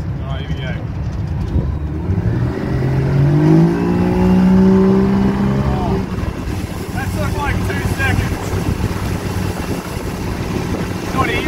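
A Yamaha 40 HP two-stroke outboard on a small aluminium boat revs up, its pitch rising steadily as the boat accelerates onto the plane, then settles into a loud, steady drone with wind noise; a voice speaks over it.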